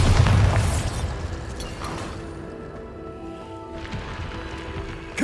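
A Bombarda blasting spell explodes in Hogwarts Legacy, opening with a loud, booming burst that rolls off into a long rumbling tail, followed by quieter crackling debris and a smaller pop near the end.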